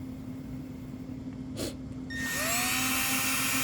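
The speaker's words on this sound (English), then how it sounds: "Let's drill it slowly" A power drill whines up to speed and bores steadily into the plastic of a solar outdoor mushroom light, its pitch rising and holding loud after a quieter stretch of background hum.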